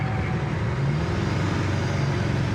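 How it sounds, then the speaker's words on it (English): Engine of a 1965 Chevelle SS convertible on a drive, heard from inside as it downshifts from fourth to third gear while slowing, a steady close low rumble with no distinct rev spike. "We'll downshift from 4th to 3rd."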